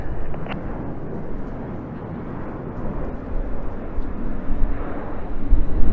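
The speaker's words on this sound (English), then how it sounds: "Reds 8 and 9 now move inwards, sit behind Reds 2 and 3 to form the shape of one of the most iconic aircraft in aviation history." Red Arrows jets fly in Concorde formation at the Eastbourne Airshow, a loud sustained low jet roar that swells and rumbles steadily without any talk.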